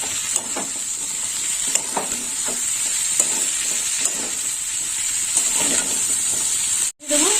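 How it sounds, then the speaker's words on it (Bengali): Vegetables for a Bengali data (drumstick stem) chorchori, seasoned with chilli powder, being stirred in a pan: a steady close sizzle with repeated scraping strokes of the spoon throughout, ending in a sharp knock near the end. "সমস্ত সবজিটা দিয়ে দিলাম এবার ভালো করে নেড়ে ফেলে দেবো"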